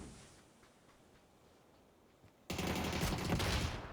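Panzerfaust fire in a PUBG esports scrim, heard as a sudden loud broadband blast about two-thirds through that holds as a roaring burst after a quiet, faintly ticking stretch, with no voices.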